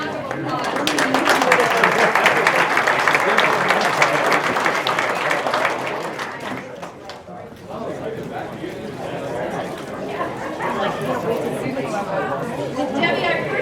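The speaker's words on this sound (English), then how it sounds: "Let's give them a round of applause." Audience applause at a county breakfast gathering, broad clapping that fills the first six seconds loudly, then thins into scattered claps and crowd chatter as people talk.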